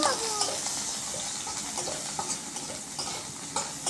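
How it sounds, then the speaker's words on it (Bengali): Chopped onion and green chili are stirred in hot oil in a pan for home-style noodles, giving a moderate, continuous sizzle with a few soft scrapes of a spatula against the pan. "আমি এখন এর ভিতরে দিয়ে দিব পেঁয়াজ, দিব হচ্ছে যে একটু মরিচ যেটা আমি কেটে রেখেছি, একটু নাড়াচাড়া করে নেব।"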